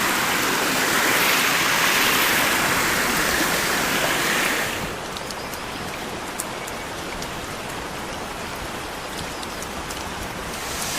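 Waterfall rushing as a loud, broad, steady roar for the first half, then dropping to a quieter continuous wash of falling water as the listener moves away.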